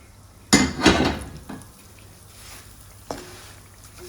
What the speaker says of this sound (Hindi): अब इसमें मैं 2 कप सूजी डाल दूंगी